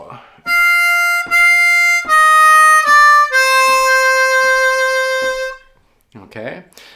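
Bb harmonica playing a blues lick: a few clear notes stepping in sequence, ending on a long held note with vibrato, followed by a short voice near the end.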